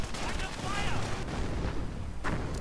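An artillery barrage and gunfire from a WWII strategy video game give dense, continuous rumbling blasts and crackling shots, loud and close, with a sharper burst near the end.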